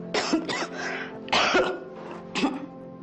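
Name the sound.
light coughing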